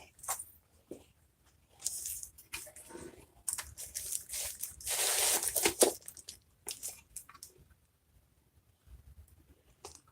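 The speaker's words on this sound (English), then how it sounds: "So I'm going to cut down, then I'm going to cut over" A river rock shower floor sheet is cut in short, irregular bursts of crunching and scraping. One longer, louder stretch of cutting sits in the middle, with quiet pauses between, all close by.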